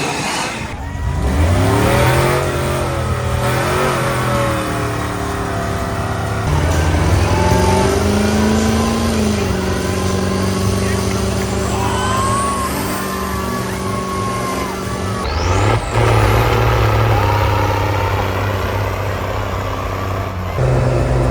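A 5-ton mud truck's engine roars loud and close at a mud crawl, rising and falling through sustained revs with a deep rumbling growl and whining pitch sweeps, continuous throughout.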